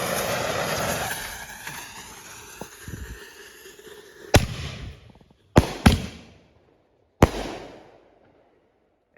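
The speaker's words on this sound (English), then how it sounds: "last two fireworks for you from the large assortment from Super Fireworks" Fireworks from a large Super Fireworks consumer assortment go off outdoors: a crackling, hissing burst fades, then several sharp loud bangs ring out at uneven intervals, each with a short echoing tail.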